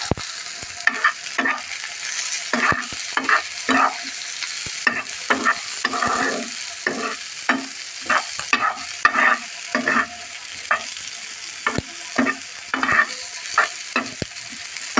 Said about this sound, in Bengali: সাথে আমি কাঁচামরিচটাও দিয়ে দিলাম একটু ভেজে নেবো